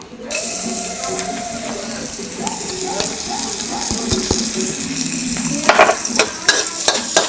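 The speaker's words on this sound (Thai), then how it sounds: "จากนั้นก็ใส่ ระเทียมแล้วก็พริกสับลงไปครับ" Chopped garlic and chili hit hot oil in a wok for basil chicken noodles, a loud close sizzle with stirring and spatula clinks that grow busier toward the end.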